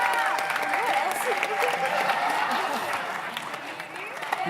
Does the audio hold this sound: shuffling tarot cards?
no